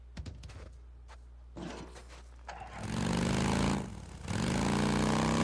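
A motorcycle engine in a video game, first a few clunks and short mechanical bursts, then the engine revs up into a loud sustained drone, dips briefly, and revs high again.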